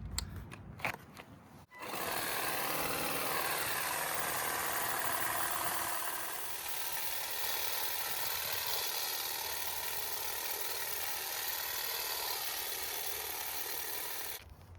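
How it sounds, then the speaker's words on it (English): Battery-powered Kobalt hedge trimmer running steadily with a continuous buzzing whir for about twelve seconds after a few brief clicks, then cutting off at the end. "I absolutely love having a spare battery for this Kobalt hedge trimmer"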